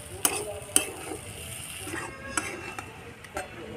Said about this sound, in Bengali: মাছের তেল চচ্চড়িটা মাখো মাখো হয়ে গেছে, জল দিইনি কিন্তু এমনি ভাজা ভাজা করেই মাখো মাখো হয়েছে।